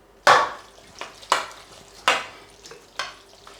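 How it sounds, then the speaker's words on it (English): A spoon scrapes through hot pasta mixture as grated cheddar is stirred in for a Sicilian eggplant pasta bake, giving four or five distinct wet scraping strokes at a steady, unhurried pace. "So I've grated some cheddar and I'm mixing it in now that it's still hot so that it'll melt."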